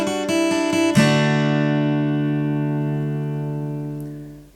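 Electric guitar plays the intro melody of a song: a few quick chopped strums, then a full ringing chord that sustains and slowly fades, played alone and close.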